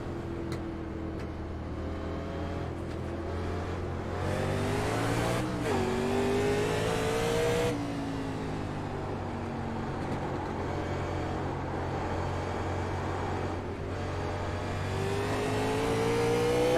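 Race car engine in iRacing screaming through rising and falling revs, with harmonic sweeps climbing on upshifts and a steady loud drone during a Grassroots League race, constant and close throughout.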